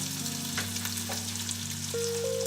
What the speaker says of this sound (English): Now that this is sizzling